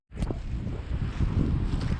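Wind buffets a microphone on a beach, a rough, rumbling low roar with gusty surges that stays loud and continuous for two seconds, with no voices.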